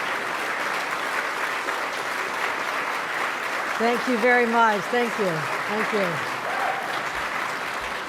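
A crowd gives the governor sustained, loud applause at a state budget event, with the clapping continuing while she speaks briefly over it.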